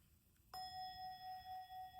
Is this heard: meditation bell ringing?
yes